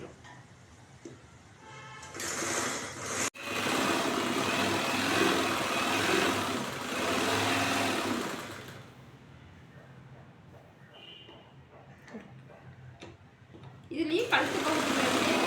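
A sewing machine runs in bursts along the edge of blouse fabric, its motor whirring steadily for several seconds at a time with short pauses in between.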